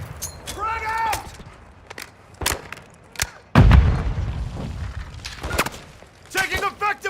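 A frag grenade explodes in Call of Duty Warzone 3 DMZ on Al Mazrah, one heavy, close boom midway with a rumbling tail, amid sharp gunfire cracks, footsteps and shouted in-game voice callouts.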